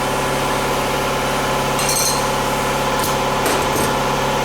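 An air compressor running steadily nearby with a loud, constant motor drone and buzzing hum, with a few brief higher clatters over it.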